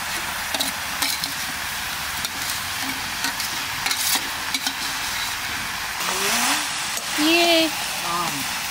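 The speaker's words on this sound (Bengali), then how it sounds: "পেঁয়াজের সাথে মাংসটা ভালো করে কষিয়ে নিয়েছি, এখন আদা রসুন বাটা আর লঙ্কা বাটা দিয়ে দেবো।" Mutton is stirred and fried with onions in a pan, with steady sizzling and scraping strokes throughout, while a voice speaks briefly near the end.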